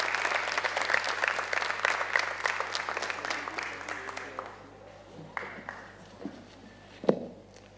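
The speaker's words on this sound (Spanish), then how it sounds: "un aplauso para él" An audience at a university event applauds a speaker, clapping loudly at first and then thinning out to a few scattered claps before one last sharp clap near the end.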